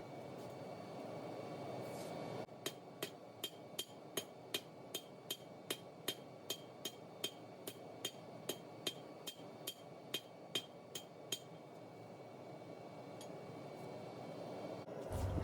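Hammer strikes on steel shape a knife blade being forged: about seventeen sharp, ringing metallic blows in a steady rhythm, loud and close, over a constant background hum, with no talk.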